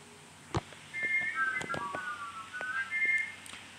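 A toy Thomas the Tank Engine train's whistle sounding wonky and off, wavering warbly tones lasting a few seconds after a brief click, fairly quiet and alone.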